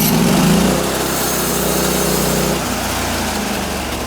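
A Norwood HD36 sawmill engine drones steadily while its blade cuts through a spruce log, a loud continuous mechanical whine close by, dipping slightly in pitch partway through.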